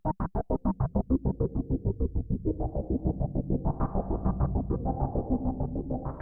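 A SILVER library sound from Audiobro chopped into a sixteenth-note pulsing bed with filter, delay and reverb; a steady rhythmic throb of sustained tones that blur into a denser, washier texture as the echoes build.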